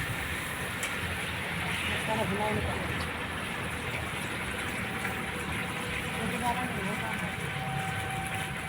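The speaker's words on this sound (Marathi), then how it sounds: "त्यामध्ये पाणी सोडत आहे" Water gushes steadily into a large cooking pot of food being prepared in bulk for a memorial food donation, with salt added by the packet; a continuous rushing pour with faint background voices.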